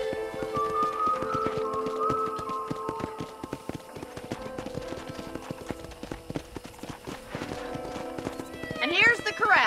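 Rhythmic hoof clip-clops from a horse in the video game Red Dead Redemption ring out steadily under a voice speaking at a ranch corral, with a brief whinny near the end.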